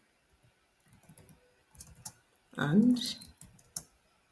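Typing on a computer keyboard comes as short bursts of soft, close key clicks, with a louder clatter near the end, while a voice talks over them.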